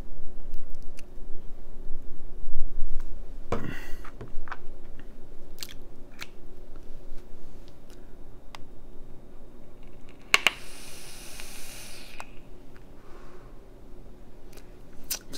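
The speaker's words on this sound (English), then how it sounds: "Let me just add a bit more juice, just for one more vape." Vaping an e-cigarette after topping it up with Crimson Seed strawberry-pastry e-liquid: small clicks and crackles of handling, then two distinct bursts of hiss, one short and one longer drawn inhale, close to the mic with no talking.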